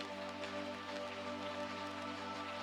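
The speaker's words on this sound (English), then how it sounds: "the rain against the window" Steady rain patters against a window in a cozy bakery setting, a dense, even hiss that runs unbroken and fairly close throughout, with no voices.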